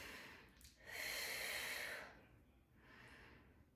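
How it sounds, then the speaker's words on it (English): Slow, deep breaths during a Pilates clamshell exercise on a mat, with one long, airy exhale swelling loudly before a softer following breath, close and without talk. "And we're just breathing deeply here."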